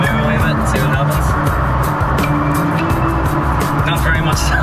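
A non-turbo Mercedes W124 300D diesel pulls away under acceleration, giving a loud, continuous close-up engine drone with a steady low rumble, while a voice talks over it.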